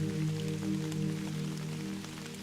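Steady, soft rainfall patters continuously behind a calm storyteller's voice, a gentle hiss with scattered drops and a low, sustained hum underneath.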